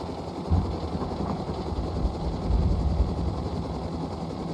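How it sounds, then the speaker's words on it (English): A Minicopter helicopter in the survival game Rust flies with a dense, steady whirring engine and rotor drone, loud and continuous with slight swells and no voices. "Now with my freshly purchased Mini from the shadiest helicopter salesman I've ever seen"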